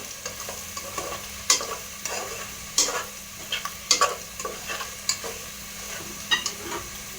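A spoon stirs spiced chicken biryani ingredients with salt and coriander powder in a pot, making repeated close scraping strokes over a steady sizzle with no talking.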